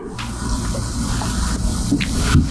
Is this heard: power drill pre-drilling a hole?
no